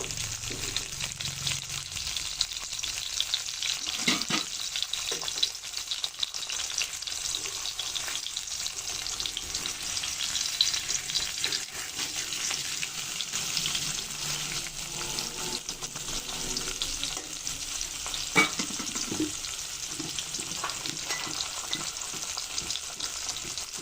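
Fish with turmeric and chili frying in a pan, heard as a steady loud sizzle and crackle that continues throughout, with occasional soft stirring and clatter and no talk.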